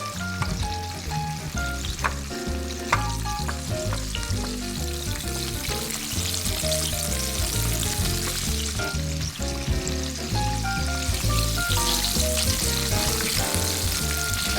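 Buttermilk-battered chicken breast pieces frying in a pan of hot oil give a dense, loud, continuous sizzle and crackle, close and unbroken throughout.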